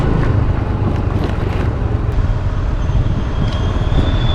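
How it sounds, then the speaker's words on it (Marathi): A train on the Konkan Railway near Ratnagiri station runs overhead, a continuous loud rumble of wheels and carriages mixed with wind buffeting the microphone throughout. "ट्रेन आमच्या वरून जाईल आता."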